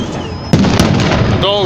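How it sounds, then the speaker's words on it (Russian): Victory Day fireworks salute on 9 May, a loud close boom followed by a sustained roar of bursts and crackling, with a rising whistle near the end. "Посмотрите на салют."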